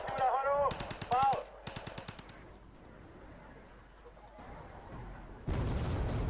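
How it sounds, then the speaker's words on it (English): Artillery and gunfire from the Wargame Red Dragon strategy game, with a burst of rapid loud shots at the start, then quieter distant rumbling and a louder barrage near the end. "Artillery's firing at our infantry."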